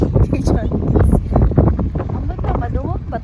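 Strong wind buffets a microphone outdoors on a seaside walk in Williamstown, Melbourne, with loud gusty rumbling throughout while people talk over it.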